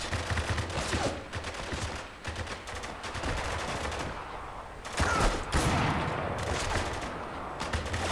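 Sustained gunfire in a Spec Ops: The Line combat scene, dense overlapping automatic bursts and shots near and far, with sharper loud volleys around the midpoint and near the end.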